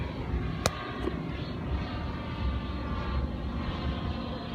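A distant airplane drones steadily overhead above a lake while kayaking, a broad low rumble filling the background with a brief sharp click near the start.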